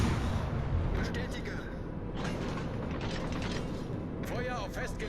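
Warship cannons fire armor-piercing shells in a World of Warships: Legends naval battle, with low booms and mechanical rumble running under steady game noise while someone talks over it.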